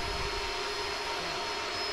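A steady, droning jet airliner cabin roar from an ILS landing on a runway in Microsoft Flight Simulator, a constant broadband engine and airflow wash with faint tonal whines, continuous and moderately quiet, with no talking.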